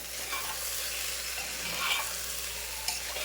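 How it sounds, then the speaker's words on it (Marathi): Masala rice frying in a pan as salt is mixed in gives a soft, steady sizzle with faint scraping of a spoon, quiet and close with no speech. "मीठ चवीनुसार मीठ छान असं मिक्स करूया"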